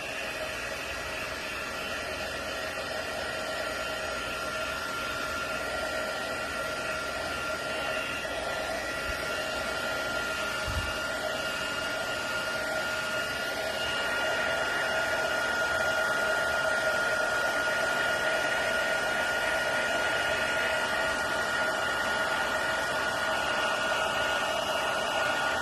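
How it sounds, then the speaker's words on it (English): A heat embossing tool melts embossing powder on a Christmas wreath card, giving a steady, loud, continuous blowing whir that holds throughout and swells slightly partway through. "And now we're going to heat emboss it."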